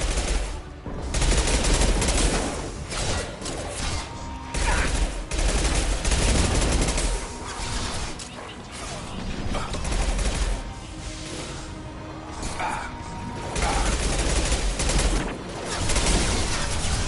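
Sustained gunfire in the Mass Effect Legendary Edition video game, loud dense bursts of automatic shots and impacts continuing nearly nonstop, with brief dips between volleys.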